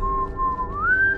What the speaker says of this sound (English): He's just whistling so creepily, dude.